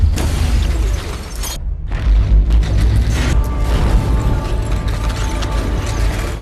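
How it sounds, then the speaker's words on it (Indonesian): Explosion in a film scene as a street blows up and window glass shatters, a loud continuous roar of rumbling blasts and scattered debris with a brief dropout partway through, no talk. "jalanan tiba-tiba meledak dan kaca jendela pecah berhamburan"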